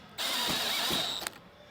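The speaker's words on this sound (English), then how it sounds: "We're just gonna get that set screw in there." A set screw is tightened on an RV slide topper, giving a brief mechanical ratcheting, grinding sound that runs for about a second and is heard close up with no talking.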